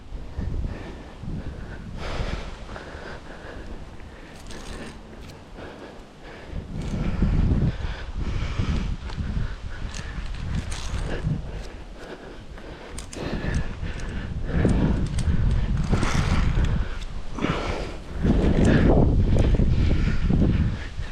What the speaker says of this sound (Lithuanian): Vėjas tai geras yra.